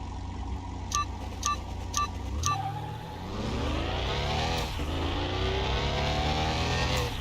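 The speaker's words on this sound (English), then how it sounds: "It's got a nice rumble to it for a 6-cylinder." Six-cylinder car engine in Car Mechanic Simulator 2021, four short beeps of a start countdown and then a loud, close rev rising through the gears with repeated pitch climbs and a shift.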